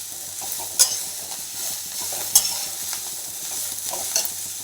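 Coriander, onion and rock salt fry in a pan while being stirred, a low continuous sizzle with occasional sharp clinks of the spoon against metal, close by and quiet.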